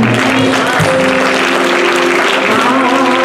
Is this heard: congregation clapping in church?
yes